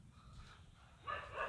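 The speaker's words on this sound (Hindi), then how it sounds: "तो पीछे कुत्ता भौंक रहा है" A neighbour's dog barks from the house across the way at night, a distant, muffled bark or two rising near the end over a low background hum.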